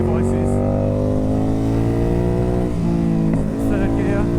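A Ducati Hypermotard 950 SP with an aftermarket exhaust and ECU tune runs close by, its engine note climbing in pitch through steady revs, dipping briefly near the end before rising again.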